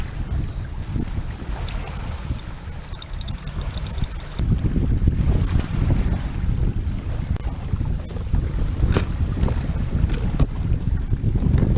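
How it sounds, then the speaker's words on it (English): Strong wind buffets the microphone at a lakeshore beach where a kayak has been pulled ashore, a steady roaring rush that grows louder midway and stays heavy to the end, with no voices. "The wind's blowing pretty hard"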